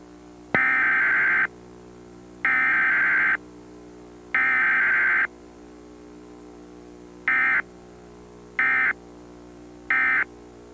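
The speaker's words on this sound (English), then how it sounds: "The data tones you just heard are used in the emergency alert system." Emergency Alert System data tones from a TV broadcast: six loud, harsh electronic bursts, three longer ones followed by three shorter ones, separated by brief quiet gaps over a faint hum.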